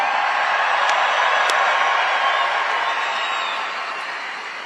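Big crowd at the 2022 Bassmaster Classic Day 3 weigh-in on Lake Hartwell roaring with cheers, whoops and clapping, a loud sustained wash of noise that slowly fades toward the end.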